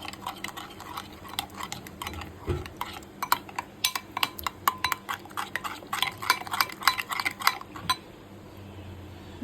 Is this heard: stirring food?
yes